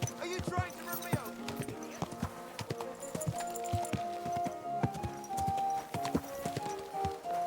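Horse hooves clip-clop in Kingdom Come: Deliverance II, a steady close trot on a busy medieval street alongside market chatter and a vendor calling out, with a tonal music bed underneath.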